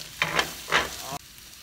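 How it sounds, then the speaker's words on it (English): Half a green pepper sautéing in a pan for wine-reduction barbecued ribs, two short loud bursts of sizzling as pieces hit the hot fat, then the sound cuts off abruptly. "green pepper here, and saute it for a few minutes"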